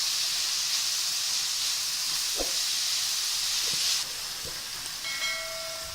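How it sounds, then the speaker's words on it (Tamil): Onions sizzle and hiss steadily in oil in a pan for poori potato masala, a constant bright frying sound broken by a few soft stirring clicks and a brief tone near the end. "இது நல்ல எண்ணெயில் நல்லா வதக்குங்க"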